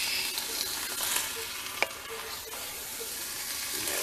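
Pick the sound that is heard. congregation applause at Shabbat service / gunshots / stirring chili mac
stirring chili mac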